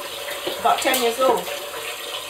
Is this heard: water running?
yes